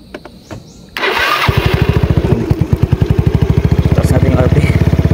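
After some shuffling and voices, a flooded motorcycle engine turns over and catches, settling into a loud, close, steady chugging idle with a regular pulsing beat.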